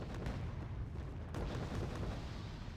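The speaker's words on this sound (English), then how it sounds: "he just got an educated guess and is now starting to barrage that area" Artillery barrage in the strategy game Wargame: Red Dragon, a dense rumbling spread of low booms and distant impacts rolling continuously, with a sharper blast about halfway through.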